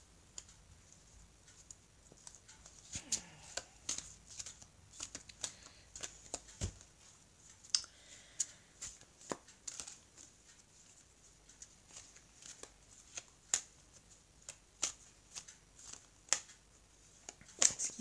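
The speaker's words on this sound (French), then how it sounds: "je vais couper le jeu et je vais recouvrir les cartes" Very large oracle cards shuffled and cut by hand: a quiet run of crisp card clicks and flicks with irregular sharp snaps, close and faint, no voices.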